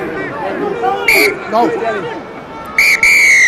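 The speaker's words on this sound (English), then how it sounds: "And there goes the whistle for half-time." A referee's whistle at a rugby match between England and Argentina at Old Trafford calls half-time, with two loud shrill blasts, the second one split in two, over the babble of a stadium crowd and some cheering.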